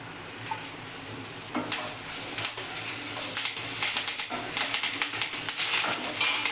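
Curry leaves crackle and sizzle in hot oil in a pan with dried red chillies and coriander seeds, a steady frying hiss with sharp pops and spatters throughout, fairly close and alone without talk.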